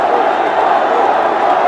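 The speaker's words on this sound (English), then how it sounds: "The crowd is obviously roaring." A cricket stadium crowd in a Ranji Trophy match between Delhi and Railways roars in a steady, dense wash of noise that holds at full loudness for the whole short stretch with no breaks.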